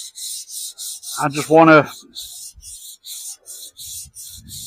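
A bicycle frame is hand sanded with 150-grit sandpaper in quick, regular back-and-forth rasping strokes, about a dozen, close and crisp, with a brief spoken remark in the middle.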